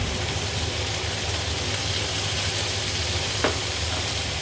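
Steak and mushrooms searing in a hot frying pan, giving a steady, loud, continuous sizzle with a faint brief tick near the end, no voices.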